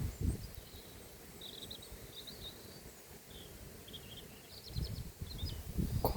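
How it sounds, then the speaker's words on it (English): Outdoor ambience on a quiet, sunny afternoon, with steady low wind rumble and soft rustling, several faint chirping bird calls scattered at a distance, and stronger gusts rising near the start and end. "but with the sounds of nature, wind and birds."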